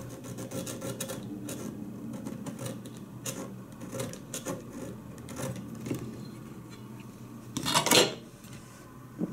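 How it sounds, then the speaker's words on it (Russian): A hacksaw for metal cutting a piece for a homemade wall-opening door frame, steady scraping rasp strokes with light clinks, ending in a louder rattling clatter. "я ножовкой по металлу пилю, чтобы спил был ровный"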